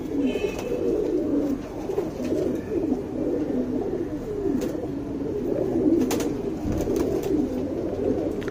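Pigeons of fancy breeds coo continuously and close by in a loft, a soft throaty rolling murmur from several birds with a few faint clicks and flutters.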